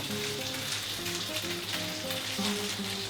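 An egg hits a hot pan and fries with a dense, continuous sizzle and crackle, close and fairly loud, with faint tonal music underneath and no speech.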